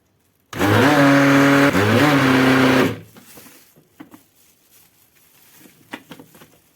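Blender whirring steadily and loudly for about two seconds as oil is mixed into homemade Nutella, with a brief pitch dip mid-run, then cutting off to quiet clinks and kitchen handling noises.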